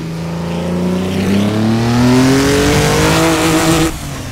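A car engine revs hard and holds against its rev limiter, the pitch climbing and then sitting at a loud, buzzing ceiling before it drops away near the end. It is close and dominant, with no speech.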